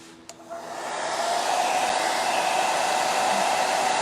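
A hair dryer blows steadily on a scrap-built Easter wall decor craft piece, switching on with a short click and rising into a loud, continuous whoosh that holds for several seconds without talk.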